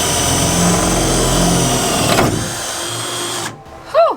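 A lightweight cordless power drill runs steadily while camper bunk slider windows are installed, a loud close whir that ends around the third second, followed by a brief high squeak.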